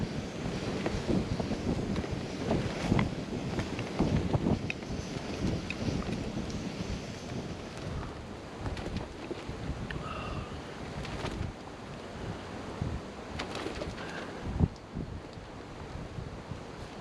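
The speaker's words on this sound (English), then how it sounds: "It's windy" Wind blows steadily across a campsite at an old castle ruin, a continuous rough rushing that buffets the microphone with gusts, fairly close and unbroken, with no voices.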